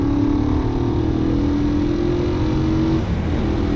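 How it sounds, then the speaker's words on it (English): A Honda CB350 motorcycle engine drones steadily while riding, a loud continuous hum with a sustained pitch that rises slightly and dips near the end, mixed with wind and road rumble and no talking. "I do love riding a motorbike."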